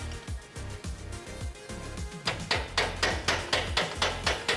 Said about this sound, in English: Use a hammer to lightly tap it in.